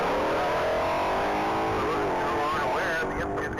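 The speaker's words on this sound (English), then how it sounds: "Currently waiting for takeoff is vehicle number 301. That's going to be a blue 22 Ford Mustang GT 500" A blue 2022 Ford Mustang GT500 roars off the line at the Texas Mile racing event, its engine loud and steady with rising revs near the end, under a faint voice.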